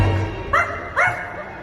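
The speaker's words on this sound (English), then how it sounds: "Where is that dog?" A dog barks during a Halloween fireworks show, two short, bright yips in quick succession that stand out over a soft musical background.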